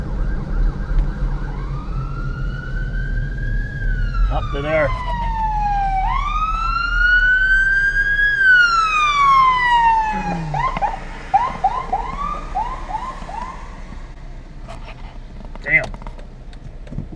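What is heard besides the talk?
police car siren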